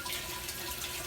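Water runs steadily through a tower garden growing lettuce, arugula and tomatoes, a continuous close rushing hiss with no talking.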